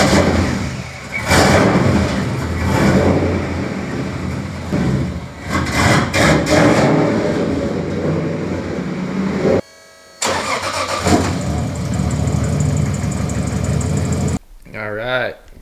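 A car engine starts and runs nearby while a Mustang and a pickup truck are moved in a garage, a loud rumbling idle with revs rising and falling, broken by brief gaps and cuts, and people talk over it.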